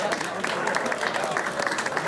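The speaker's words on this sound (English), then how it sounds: "That's a very great applause." An audience at a Broadway fundraiser gala applauds an award presentation with a lively burst of clapping in the room, while some chatter and voices mix in underneath.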